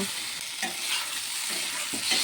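Potatoes and tomatoes with ground spices and a splash of water are sautéed and stirred in a pan, giving a steady, close hiss with soft, irregular scrapes of the spoon.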